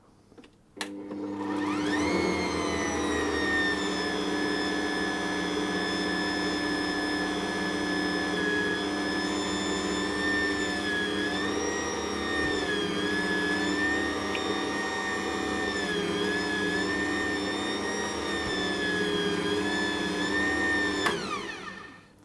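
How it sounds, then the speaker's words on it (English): An Ankarsrum stand mixer runs at low speed working pretzel dough, a steady motor hum with a whining tone that holds for about twenty seconds before stopping, close and with no talking. "I'm going to mix that on a fairly low speed until it becomes a shaggy dough basically."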